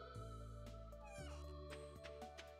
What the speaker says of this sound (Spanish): Los pollos, los patos.